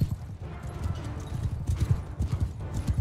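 Horses gallop in a Mount & Blade 2 Bannerlord battle, their hooves pounding in a rapid, loud clip-clop that runs steadily through the whole stretch.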